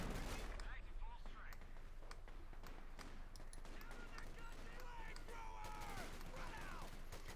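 Gunfire crackles through a Company of Heroes 2 battle between Wehrmacht and US Forces, sharp repeated shots and bursts scattered across the clip amid dense game noise, with a commentator talking over it.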